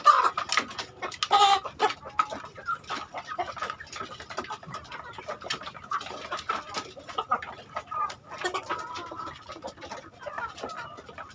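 Free-range village chickens kept in a small home-scale backyard flock cluck repeatedly in irregular bursts, close by and moderately loud, with a few sharper calls among the steady clucking.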